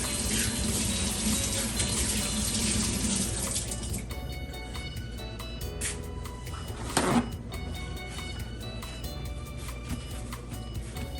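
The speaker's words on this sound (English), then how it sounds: "I'm going to wash my hands one more time." Hands are washed under a running kitchen tap, a steady close rush of water that shifts in tone as the flow changes, with a brief louder splash partway through.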